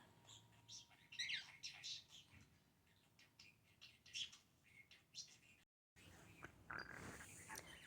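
Small bird chirping and tweeting in short, repeated bright calls, fairly faint and scattered through a quiet indoor room, with a brief dropout near the end.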